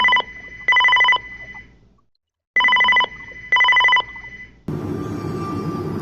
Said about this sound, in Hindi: तभी उसे पुराना टेलीफोन बजने की आवाज आती है।